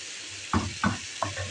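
Potatoes fry in a hot pan with a steady background sizzle, broken by three quick scraping stirs that kick up brief bursts of louder crackling.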